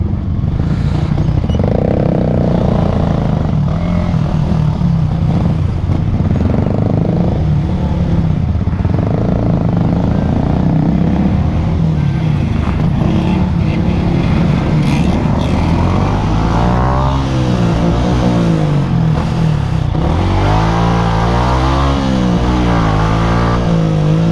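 A Yamaha R15 motorcycle exhaust rumbles loudly up close, throbbing and rising and falling as the engine revs, continuing throughout.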